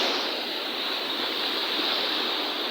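Rushing sea water along the bay at San Fernando, La Union, a steady broadband wash of current and surf, close and continuous with no voices.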